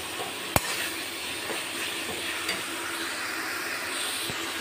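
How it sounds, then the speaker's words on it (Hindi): Tomato masala for a rustic Jharkhand-style jackfruit curry fries with a dense, steady sizzle, punctuated by a sharp spoon knock on the pan and lighter stirring scrapes. "अच्छी तरह से मसाला भूनने दीजिए, टमाटर भी अच्छी तरह से पूरा हो जाएगा"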